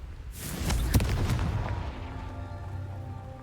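A Confringo spell explosion from the video game Hogwarts Legacy: a burst of booming blasts with a sharp crack near one second, followed by a lingering rumble and ringing tail, heard alone.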